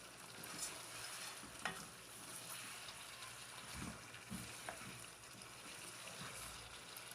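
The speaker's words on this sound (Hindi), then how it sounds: "कुकिंग ऑयल ऐड करने के बाद इसको हम अच्छी तरह से फ्राई कर लेंगे" Mutton fries in cooking oil in a pot for Peshawari namkeen gosht, a faint, steady sizzle broken by a few soft stirring scrapes.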